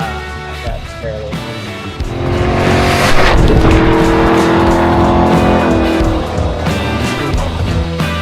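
A Chevy Silverado ZR2 truck accelerates hard with a loud, sustained engine roar and tire squeal building after the first two seconds and holding steady near the listener.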